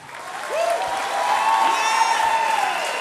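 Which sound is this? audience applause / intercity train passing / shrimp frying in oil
audience applause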